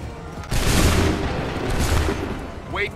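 Musket volley fired in Assassin's Creed III: a loud, dense burst of crackling gunfire starting abruptly and sustained with a booming rumble, followed by a brief second surge.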